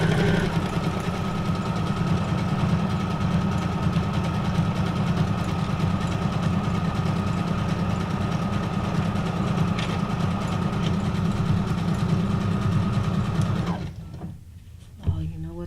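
A sewing machine stitches fabric on stitch setting 50, a rapid steady whirring hum running continuously for most of the clip, close and clear, then stopping abruptly near the end.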